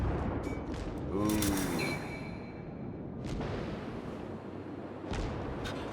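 Heavy naval guns boom in a World of Warships battle, several rumbling blasts rolling into each other, with a brief voiced exclamation over the barrage.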